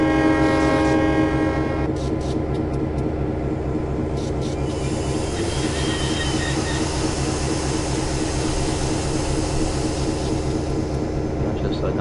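Locomotive horn in Train Simulator on Donner Pass, blown at a whistle post as a loud sustained chord for about two seconds, then a steady heavy engine rumble continues.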